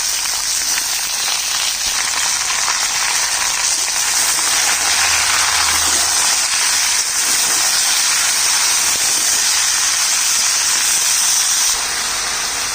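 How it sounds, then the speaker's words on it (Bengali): Papaya, bottle gourd and ridge gourd fry for shukto, filling the pan with a loud, steady and dense sizzling hiss that runs without a break from start to finish. "ভেজে নিচ্ছি এক একে আমি পেঁপে লাউ ঝিঙা রুখতে সবজিগুলো দিয়ে দিচ্ছি"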